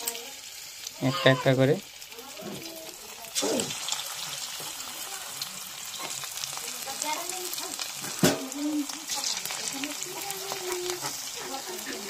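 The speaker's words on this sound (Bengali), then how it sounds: "তো এটা একটু লাল করে ভেজে নেব এখন" Chicken pakoras dropped one by one into hot oil in a wok sizzle steadily throughout, with occasional stirring clatter, while a person talks over the frying.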